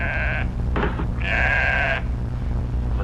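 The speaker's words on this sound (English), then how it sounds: "What's that? The sheep." A sheep bleats twice, loud and near, a short cry followed by a longer wavering one over a low steady background hum.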